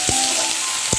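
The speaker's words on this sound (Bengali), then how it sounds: "দিয়ে দেবো পেঁয়াজ আর রসুন গুলো ভালো করে ভেজে নেব।" Onion and garlic fry in hot oil with green chilies, whole cumin and bay leaves, giving a steady, loud sizzle throughout, with a couple of faint low knocks from stirring.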